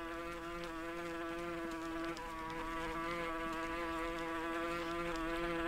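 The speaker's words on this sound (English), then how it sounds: "because that buzzing sounds really annoying" A steady insect buzz from the jungle survival game Green Hell, a close, continuous whine that holds at an even level throughout with no voices.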